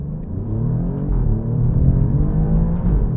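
Engine of a new 2025 car pulling hard under acceleration, a close, steady low rumble and whir that holds loud for a few seconds with no talking.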